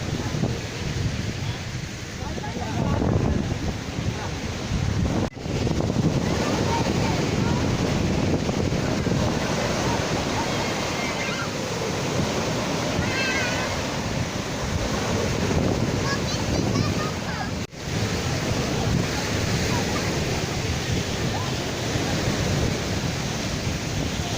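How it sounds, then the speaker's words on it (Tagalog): Strong sea waves break along the shore at Poro Point in the Philippines, a continuous surging roar with heavy wind buffeting the microphone throughout. "ang lakas ng daloyon oh"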